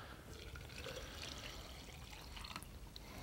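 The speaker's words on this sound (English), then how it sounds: "as I add the water, there's a plume of dust that just comes up" Water poured into a concrete slurry mix, a steady splashing, trickling flow that stays fairly loud and close throughout with no voices.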